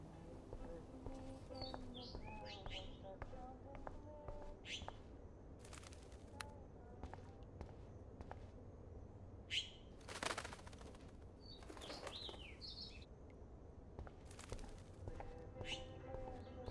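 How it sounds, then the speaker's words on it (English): Trapped bird in the game Life is Strange flutters with intermittent sharp wing-flapping bursts and scattered faint chirps, all quiet, over a low steady ambient hum indoors. "Oh no, that poor little bird has been trapped in here."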